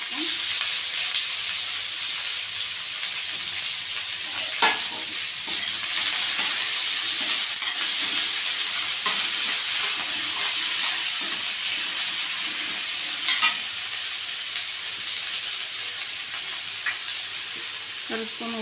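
Onions frying in a pan for Tamil arai keerai poriyal, a continuous bright sizzle with occasional scraping stirs and clinks, fairly loud and close, no talk.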